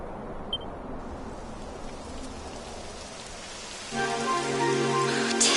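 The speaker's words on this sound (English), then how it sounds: "It would have to go and start raining, wouldn't it?" Rain beginning in the video game Dragon Quest 11: a steady soft wash of rainfall that thickens and grows louder partway through, with no voices.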